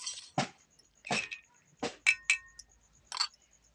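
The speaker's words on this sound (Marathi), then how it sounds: "यामध्ये मी बर्फाचे तुकडे टाकून घेते" Ice cubes drop into a glass of homemade sweet lassi, a series of sharp, bright clinks spaced a moment apart, close and fairly quiet, with a couple of quick double taps.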